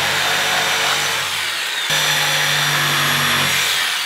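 A power tool cuts steadily at the wooden legs of a bandsaw cart built from an old typewriter stand, a continuous loud whine that shifts pitch partway through before easing off at the end.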